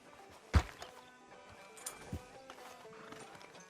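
Horse hooves clip-clop faintly in Red Dead Redemption 2, a few scattered soft thuds over a low ambient bed, with one louder knock near the start.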